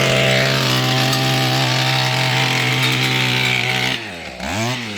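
A Mantis tiller's small two-stroke engine, freshly fitted with a new carburetor diaphragm, runs at a loud steady buzzing high idle nearby, then dips and revs back up sharply near the end.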